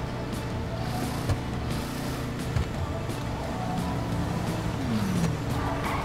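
Albany Hermes muscle car from GTA V driving along, its engine a steady mid-level rumble with a few shifting pitch sweeps, a brief knock or two and a rising whine near the end.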